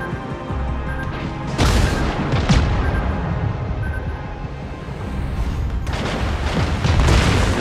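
Naval gunfire and explosions in World of Warships crash out as several heavy booms, with a big blast early on and another near the end, over a constant rumbling battle backdrop.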